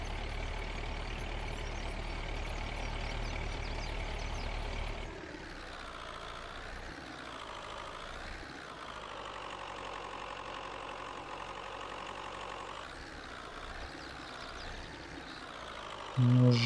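A tractor engine idles steadily in Farming Simulator 22, with a low rumble that drops in tone partway through and then settles into a wavering, revving hum with occasional knocks; no speech.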